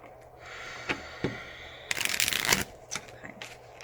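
Tarot cards being shuffled by hand, with soft papery riffles and taps that build into a dense burst of rapid card flutter midway, then trail off into a few scattered flicks, close and fairly quiet.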